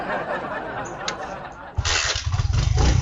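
A motorcycle started with a key fires up partway through, switching from quiet rustle and voices to a loud, close, pulsing engine run with uneven throbs; people talk before the start.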